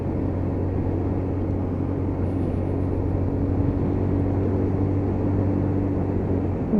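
A Lexmoto Titan motorcycle cruising at a steady 30 mph through town, its engine holding a constant low drone with continuous road and wind rumble and no break in level.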